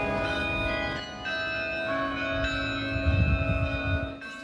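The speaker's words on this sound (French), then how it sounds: "c'est désormais un morceau un peu particulier qui résonne au carillon de l'hôtel de ville de Lyon" The carillon of Lyon city hall rings out the Ukrainian anthem, a sustained, resonant sequence of bell tones sounding at moderate distance, alone without talk.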